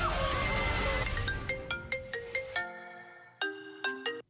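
A phone ringtone plays in a TV advert, a bright melodic electronic tune of repeated ringing notes, loud and close, first over a busy background and then alone.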